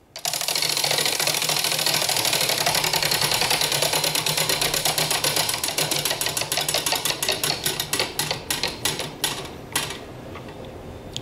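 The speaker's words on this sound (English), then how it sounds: "Officer Morrell, let's spin the Wheel of Justice" A Wheel of Justice prize wheel spinning, a loud rapid clatter of pointer clicks that gradually slows and spaces out before stopping, close and without talk.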